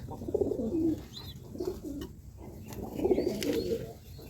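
Pigeons cooing nearby in a few soft, throaty bursts with short pauses between them, the birds suffering in hot weather.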